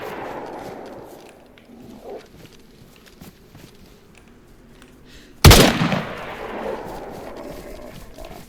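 A single loud gunshot in the DayZ survival video game cracks out close by after a stretch of quiet ambience, then trails off in a short decaying echo.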